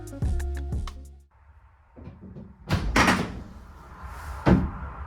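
A camper van door that needs lubricating is opened and closed. Two sharp knocks come first, then quieter scraping and a couple of louder clunks, all fairly close.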